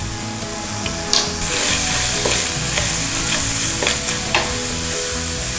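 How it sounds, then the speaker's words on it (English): Bacon sizzles steadily in a hot pan for kimchi fried rice, with scraping stirs and a few sharp clatters of utensil against metal over a constant, close frying hiss. "Put our bacon in. Give it a little gentle stir around."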